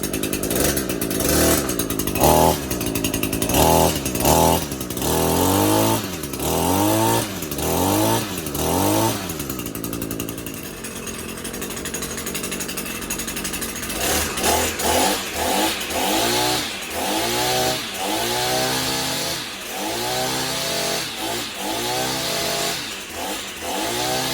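An Echo SRM 225 string trimmer's small two-stroke engine idles roughly, then revs up and down in repeated loud surges, close by and without speech.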